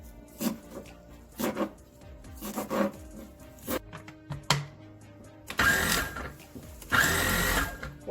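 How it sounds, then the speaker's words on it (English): A food processor pulses chopped parsley for tabbouleh, its motor giving short whirring bursts that run longer toward the end, with quieter kitchen clatter between. "We're pulsing the parsley now."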